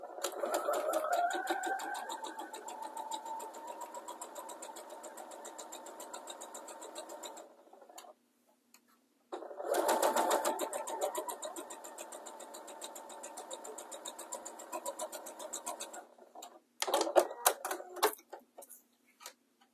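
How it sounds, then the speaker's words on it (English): A sewing machine runs a straight stitch along fabric strips, a fast, even mechanical tick-tock whir in steady bursts with a brief pause midway, close and clear. "we're just going to straight stitch"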